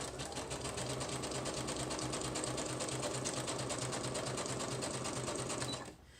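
A sewing machine stitches over paper scraps in a junk journal, its rapid, regular needle chatter running steadily and close for about six seconds before stopping abruptly.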